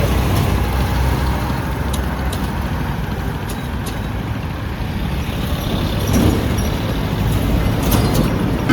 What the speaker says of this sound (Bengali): কি পরিমাণ ব্যস্ত এই সড়কটি দেখলেই বোঝা যায়।